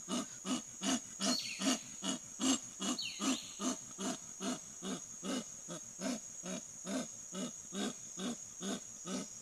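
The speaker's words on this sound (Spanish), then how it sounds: "queremos seguir escuchando el rugido de nuestro jaguar panameño" A Panamanian jaguar gives a rhythmic sawing roar: over twenty evenly spaced, rasping grunts in a steady loud series, close and unaccompanied.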